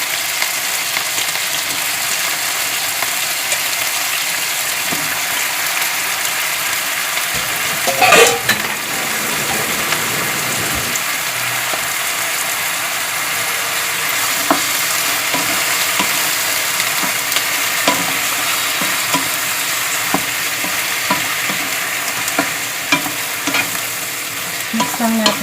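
Shrimps sizzle and are stirred in butter in a pan, a steady frying hiss throughout with scraping stir strokes and a louder clatter near the eight-second mark, no voices.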